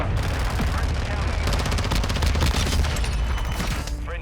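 Rapid automatic gunfire from a VEL-46 submachine gun in Modern Warfare, a dense stream of close, loud shots rattling for several seconds.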